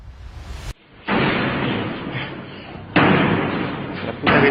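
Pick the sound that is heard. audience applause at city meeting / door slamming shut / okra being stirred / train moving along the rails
door slamming shut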